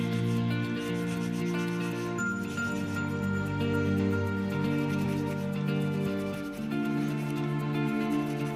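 Acrylic dip-powder nails being filed, a soft, continuous close-up rubbing and scratching that runs steadily throughout at low volume with no speech.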